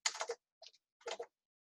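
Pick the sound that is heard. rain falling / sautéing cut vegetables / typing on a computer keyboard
typing on a computer keyboard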